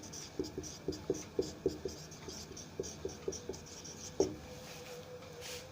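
Pen writing on paper, close and quiet, in short bursts of quick scratchy strokes with brief pauses between words.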